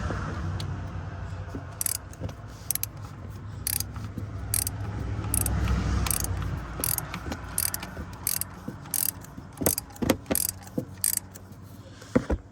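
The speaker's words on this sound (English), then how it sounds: "just tightening up some bolts here" A ratchet clicks in quick bursts while bolts are tightened on a GMC Savana van during a thermostat change, close metallic pawl ticks with pauses between strokes and faint handling noise.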